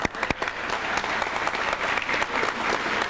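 Audience applause at a high school celebration of excellence awards ceremony, a dense, sustained round of clapping from a large crowd, loud and steady with a few sharper claps at the start.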